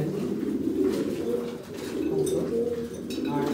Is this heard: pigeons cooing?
yes